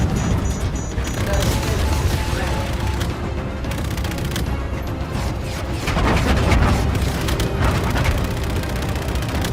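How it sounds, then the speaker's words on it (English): Ship cannons fire on an enemy destroyer in Call of Duty: Infinite Warfare, heavy booms and rapid volleys with crashing explosions layered into a loud, continuous barrage. "Use your cannons, Reyes!"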